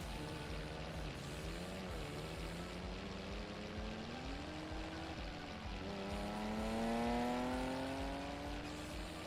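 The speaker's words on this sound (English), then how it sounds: "really aggressive engine sounds from certain cars" Aggressive car engines from the Farming Simulator 25 video game, a sustained mid-loud drone with several overlapping revving tones that rise and fall in pitch, building to a louder surge near the end, with no talking.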